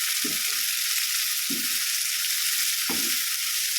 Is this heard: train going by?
no